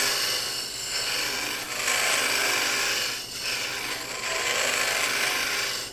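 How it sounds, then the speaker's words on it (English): Woodturning tool scraping along the grain of a spinning oak spindle on a lathe, a steady close rasping hiss that swells and eases in long passes, loud and continuous with no speech. "This is a scrape, but it is a scrape with the grain"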